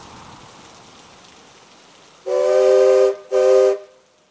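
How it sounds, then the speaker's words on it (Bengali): Rain hisses steadily before a train arrives and sounds two loud, piercing whistle blasts in quick succession, the first longer than the second, cutting sharply over the downpour. "কিছুক্ষণ অপেক্ষা করার পর ট্রেন চলে আসলো"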